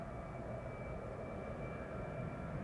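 KLM Boeing 737-800 bound for Athens at Schiphol Airport, a steady, loud broadband jet roar with a faint whine held throughout, without talk.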